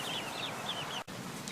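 Chickens cluck and chirp softly in a backyard, faint high calls repeating over a constant hiss, with a brief dropout near the end.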